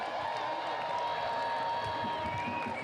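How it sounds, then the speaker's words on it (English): A rally crowd outdoors on an island cheering continuously, a sustained roar of many voices with whoops and some clapping, steady and somewhat distant throughout. "Just cheer over there for us, would you?"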